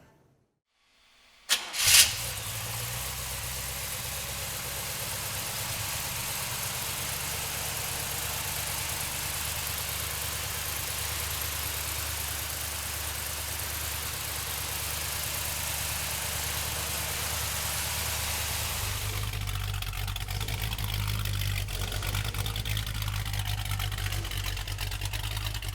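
A 1968 Chevrolet Chevelle engine cranks briefly and catches with a sharp burst, then settles into a steady, loud idle that deepens slightly near the end.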